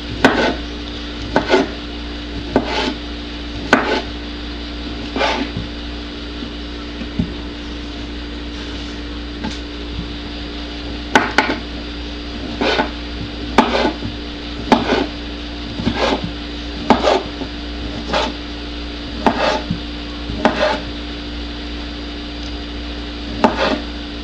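A knife chops sausage into chunks on a cutting board, sharp regular knocks repeating every second or so, close and clear over a steady background hum.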